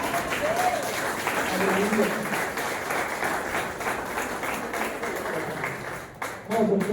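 Congregation clapping throughout a healing and deliverance church service, dense steady applause with voices calling out and a brief spoken exclamation.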